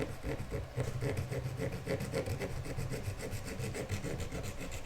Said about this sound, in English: That's just me sawing, don't worry.